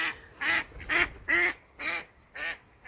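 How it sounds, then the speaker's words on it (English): Five loud, nasal honks in a steady rhythm, each about half a second long, from Canada geese calling close overhead, with no talking. "Canadian geese just went over my head."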